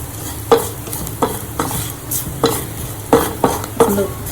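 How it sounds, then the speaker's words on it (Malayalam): Turmeric and coriander powder roasting in a pan for paneer masala, with loud rhythmic spoon scrapes and stirs about every half second over a steady close sizzle. "പൊടി ഒന്ന് മൂത്ത് വരട്ടെ."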